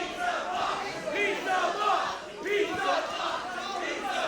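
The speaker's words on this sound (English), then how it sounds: "The crowd Calling for the pizza box" Wrestling crowd at a fans-bring-the-weapons match chanting together, a steady rhythmic mass of voices rising and falling in waves throughout, loud and close with no single speaker standing out.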